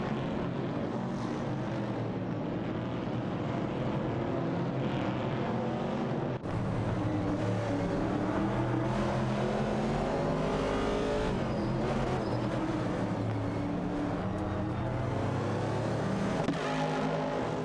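Race car engines in an AI racing video game, including Plymouth Barracudas, a Ford Falcon and a Dodge Dart, as a dense continuous roar of several engines droning and revving together at steady loudness.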